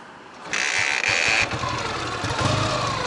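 Ural motorcycle engine while riding, a close mid-pitched drone with a louder rev burst early on, steady and alone without talk.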